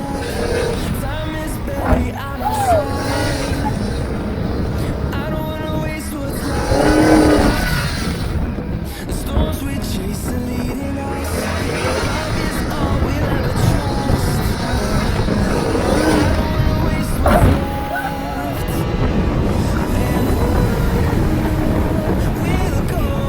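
An off-road car races a lap through sand dunes, its engine roaring and revving loudly and steadily throughout, with rushing wind and jolts; a voice speaks briefly over the engine noise.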